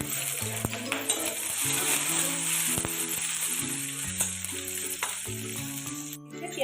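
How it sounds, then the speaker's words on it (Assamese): Onion and green chillies fry in hot oil with a dense, continuous sizzle, punctuated by scattered metallic clinks of a utensil against the pan. "এতিয়া তেল গৰম হৈ গ'ল, দেখিছে এতিয়া মই পিঁয়াজ দি দিছোঁ আৰু এইফালে মই কেঁচা জলকীয়া কেইটাও দিছোঁ।"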